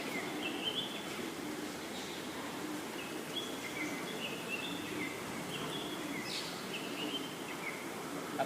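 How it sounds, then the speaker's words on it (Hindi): Birds chirp and call intermittently in an outdoor natural setting, quiet and somewhat distant over a soft steady background hum. "चिड़ियों की चहचहाट"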